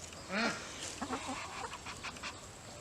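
Backyard chickens in a garden cluck and make soft calls nearby, a few short vocal bursts over a faint outdoor hiss.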